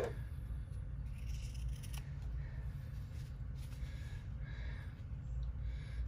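Scissors cutting fabric all the way around a small flat-bottomed bag, a close, continuous crisp snipping and slicing over a steady low hum.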